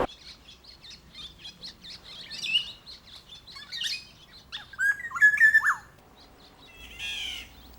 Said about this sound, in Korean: 아름다운 소리의 주인공은 꾀꼬리다.